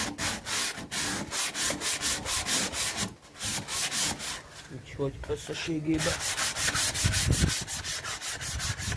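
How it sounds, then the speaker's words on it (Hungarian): Hand sanding of a wooden trailer panel gives a loud, steady run of rhythmic rasping strokes close by, briefly interrupted while someone speaks before the sanding resumes. "kézzel csiszoljuk"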